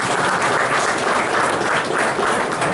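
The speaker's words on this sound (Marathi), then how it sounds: "एकदा जोरदार टाळ्या झाल्या पाहिजे" An audience at a painting inauguration ceremony claps together in loud, dense, sustained applause that fills the whole moment.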